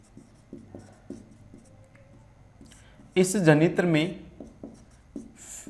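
A pen or chalk scratches across a board in a classroom lesson on generator types, with a few soft, spaced strokes, then a short burst of someone talking, then more faint writing.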